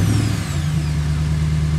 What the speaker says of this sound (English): I actually changed the exhaust out on the truck